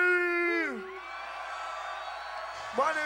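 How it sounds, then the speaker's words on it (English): Concert crowd at a 2004 hip-hop tour show in Boulder screaming and whooping on cue, a sustained loud roar from a large audience that swells again near the end after a voice shouts. "Now somebody, anybody, everybody, scream!"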